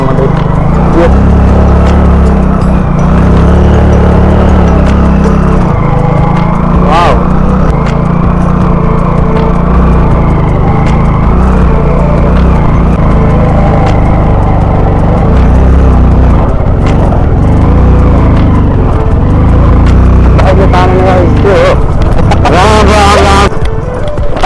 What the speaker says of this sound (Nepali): हाम्रो बाइक चाहिँ गइरहेको छ बाटो भएसम्म चाहिँ